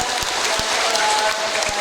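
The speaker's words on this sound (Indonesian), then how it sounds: "sekali lagi mari kita berikan tepuk tangan untuk para keluarga" An audience applauds the families at a pillar-planting ceremony in Detubu, dense, steady clapping from many people, with a faint tonal hum running beneath it.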